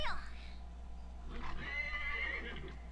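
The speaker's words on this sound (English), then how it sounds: "That horse just had heels on, dude." A horse in an episode of the anime Overlord season 3 gives a descending whinny at the start, then a second, longer neigh, with voices talking quietly alongside.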